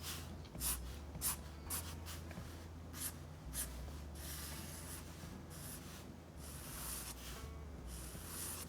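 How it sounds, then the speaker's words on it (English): A pen draws lines on paper for a caricature, making quiet, close scratchy strokes in short repeated bursts with brief pauses, over a low steady hum. "now a couple of lines to draw the flow of her hair"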